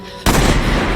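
A single loud gunshot sound effect, an abrupt blast that bursts in after a moment of near quiet and leaves a sustained, dense roar of reverberation.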